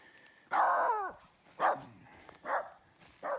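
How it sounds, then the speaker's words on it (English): A dog barks and yelps in four short bursts at a backcountry campsite in Algonquin, the first longest with a whiny trailing tone, fairly close with quiet gaps between. "Barking at somebody interesting there, Hunter?"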